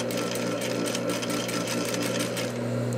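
A sewing machine with a rolled hem foot runs steadily, stitching a rolled hem in a continuous close, even whir.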